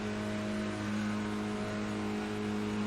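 A Renault Clio Cup race car in the Assetto Corsa racing game, at Yamanaka Lake Circuit, holds a steady, droning engine note at high speed, moderately quiet and continuous with no talk.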